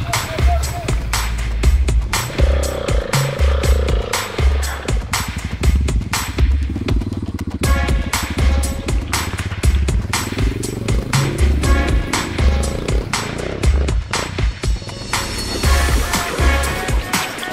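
An enduro motorcycle engine revs hard and steadily on a rocky mountain trail in central Greece, loud and close, with the throttle held open and stones clattering underneath while riders shout over it.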